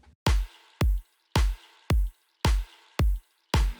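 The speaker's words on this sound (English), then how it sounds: "So this is the kick and snare" A punchy kick and snare alternate in a steady groove, six heavy hits with short bright tails and silence between them.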